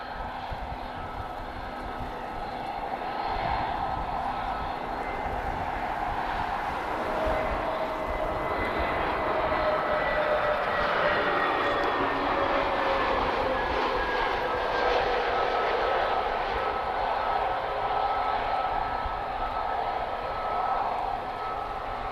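A TAP jet coming in to land at Lisbon Airport, a sustained engine roar swelling gradually with a sliding whine, heard from a distance and unbroken for the whole stretch.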